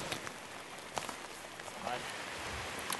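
Rain pattering on the ground outdoors during a crow shoot in Ireland, a faint steady hiss with a few scattered drop taps and thin voices murmuring underneath.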